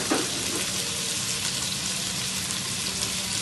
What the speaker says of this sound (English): you know you're doing a good job when you hear that sizzle